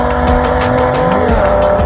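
A VW Alltrack drag-racing an Audi, loud and close, with a roaring, revving engine, shifting pitch as the gears change, and tire squeal across the whole short burst.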